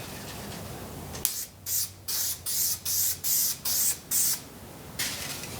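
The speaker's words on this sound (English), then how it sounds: "spray adhesive for the rocks." Spray adhesive hisses close up onto a quarter-inch luan substrate for carved foam rocks, in a rapid series of about eight short, even bursts with brief gaps, after a second of quiet.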